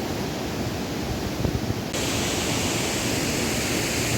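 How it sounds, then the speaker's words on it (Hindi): A small waterfall, the Shivling waterfall in Cherrapunji, Meghalaya, gives a constant, dense rushing roar close by, with the wash of water brightening partway through. "छोटा सा वाटरफॉल, इसको शिवलिंग वाटरफॉल बोलते हैं यहाँ का लोग"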